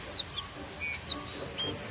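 Short high chirps and tweets from a tame bird come in scattered quick bursts over a steady hissing outdoor background, fairly close but light.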